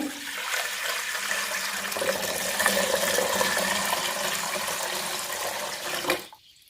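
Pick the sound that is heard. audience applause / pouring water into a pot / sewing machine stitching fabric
pouring water into a pot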